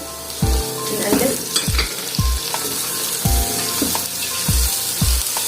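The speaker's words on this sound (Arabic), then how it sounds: "طبعا نفضل نقلب فيهم لحد ما يتبلوا شويه" Carrots, colored peppers and onion fry in a pan, a loud steady sizzle broken by repeated rhythmic thumps and scrapes of a spoon stirring.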